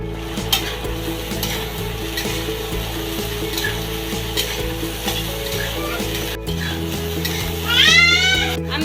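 Spiny gourd fries in a pan while being stirred, a busy crackling sizzle with repeated utensil scrapes and taps over a low steady hum, then a brief louder rustle near the end.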